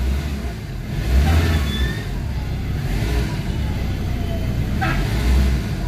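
A Ford Ranger 3.2 with low power and engine vibration, air conditioning on, idling close by with a steady rumble that swells briefly as the engine is revved, without talk.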